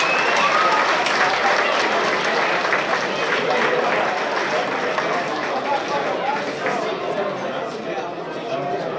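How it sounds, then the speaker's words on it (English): Applause from the audience after an amateur boxing bout at a training gym, a dense, steady patter of clapping that carries on for several seconds and slowly thins toward the end. "Ladies and gentlemen, a round of applause for both young men."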